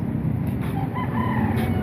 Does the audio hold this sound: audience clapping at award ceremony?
no